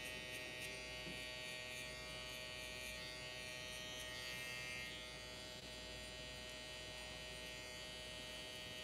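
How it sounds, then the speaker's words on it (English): Electric hair trimmer buzzing steadily up close during a haircut cleanup, a constant even drone that dips slightly partway through, with no talking. "I'm gonna go back with the trimmer, clean up just a little bit here."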